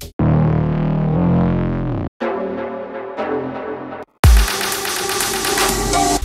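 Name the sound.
synth and raised bass fill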